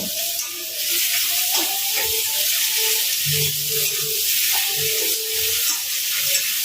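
Ginger garlic paste sizzling in a pan with frying katla fish curry, a steady hiss with intermittent scraping and stirring clatter, close and moderately loud, no talking.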